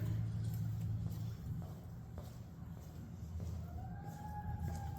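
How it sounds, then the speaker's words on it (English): A fire truck passing on a road, a low vehicle rumble throughout with a faint siren tone rising near the end. "Oh, that's a fire truck."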